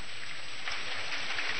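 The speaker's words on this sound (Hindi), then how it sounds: "हाँ, बारिश हो रही है डैड।" Cartoon rain pouring down, a steady dense hiss of falling drops that stays even and loud throughout the short stretch, with no voices over it.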